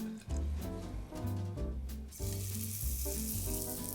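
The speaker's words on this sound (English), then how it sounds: "So this is going to go into the pan. Hopefully that nice sear we'll get." A sea bass fillet sears in a hot pan, giving a loud, continuous close-up sizzle with bursts of crackle, backed by steady tonal sounds throughout.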